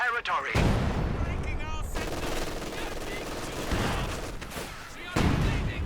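An artillery barrage in a Company of Heroes 2 match brings heavy booms and bursts of gunfire, loud and continuous, under a commentator's talk.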